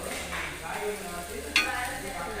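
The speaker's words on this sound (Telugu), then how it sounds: "బాగా గోల్డ్ కలర్ వచ్చేంత వరకు కాల్చుకోవాలి" Nalleru roti frying in oil on a pan until golden, producing a continuous close sizzle with a sharp spatula scrape partway through.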